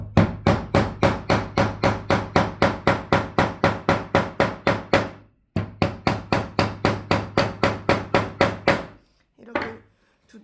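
Wooden tile pieces for a woodcraft tray being hammered flat: a long run of rapid, evenly spaced hammer blows on wood, a brief pause, then another quick series, close and loud, ending in a few faint knocks.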